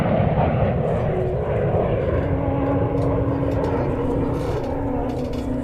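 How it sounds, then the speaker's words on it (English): Avro Vulcan bomber jet engines roar at an air show, a loud, steady, rumbling blast that holds without letup. "we'll get back to the roar of the Vulcan any second"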